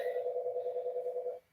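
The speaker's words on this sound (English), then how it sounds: "My phone rings 4 times, I guess, before the internal answering machine" A household phone gives one faint, warbling ring lasting just over a second before cutting off, heard alone in a quiet room.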